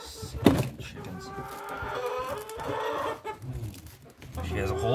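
Chickens cluck and squawk close by at feeding time indoors, a busy overlapping chatter with a sharp knock near the start and a voice talking among them.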